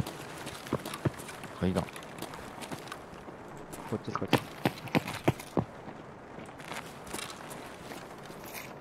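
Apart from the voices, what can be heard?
footsteps in the video game Escape from Tarkov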